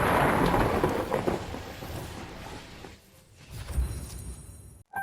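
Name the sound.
heavy rain pouring, thunder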